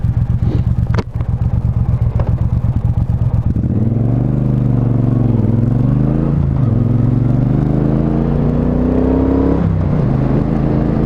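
A Triumph Bonneville Speedmaster motorcycle engine with stock exhaust idles with a steady low thrum, then revs up and settles, its pitch rising and falling in smooth sweeps; loud and close, no talking.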